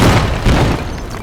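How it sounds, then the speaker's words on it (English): A regular hand grenade goes off in the Gates of Hell war game, a loud, close, broad boom with rumbling debris that fades over about a second, with no voices. "I'm just gonna like chuck a grenade, actually. Just like a regular grenade and see if that does it."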